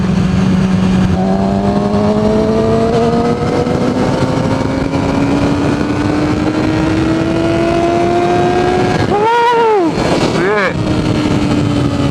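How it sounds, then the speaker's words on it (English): Motorcycle running with no exhaust fitted, its engine roaring loud and close as the throttle opens and pitch climbs steadily, then dips and wavers briefly before carrying on. "Feels good to open that throttle. Feel the engine just start to roar."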